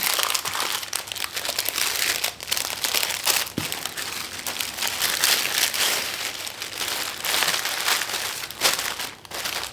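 Crinkly wrap being folded around a prepared breakfast or lunch item during family meal prep, a steady run of close, loud crumpling and rustling that lasts throughout with a few sharper crackles and no talk.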